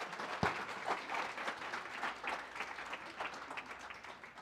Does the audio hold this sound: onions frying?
no